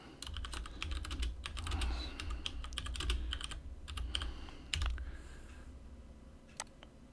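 Keys clatter on a computer keyboard in quick, uneven bursts of typing, close and fairly quiet, with brief pauses near the end.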